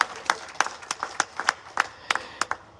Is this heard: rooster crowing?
no